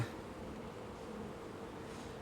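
A steady swarm of honeybees hums over an open hive frame, a continuous soft buzz with no breaks, faint and unbroken throughout.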